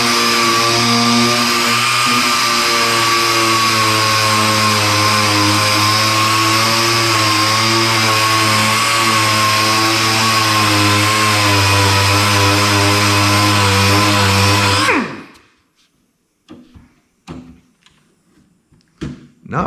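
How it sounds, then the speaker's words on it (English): Power sander working over Z28 car body parts, a loud, steady high-pitched whir running for about fifteen seconds before cutting off, followed by a few faint knocks and scrapes. "I'm gonna see how it sands out."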